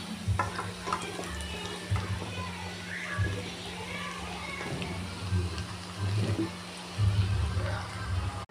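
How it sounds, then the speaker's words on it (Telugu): Bottle gourd pieces tipped into a pan of fried onions and stirred, giving a steady low sizzle with occasional scraping strokes, while voices, including children's, talk in the background. "ఇప్పుడు మనం కట్ చేసి పెట్టుకున్న సొరకాయ ముక్కల్ని ఇందులో వేసేసుకుందాం."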